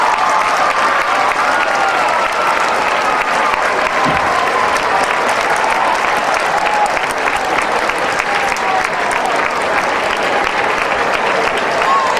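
A large audience at a high school speaking event applauds loudly and continuously, dense clapping that fills the whole stretch without pause.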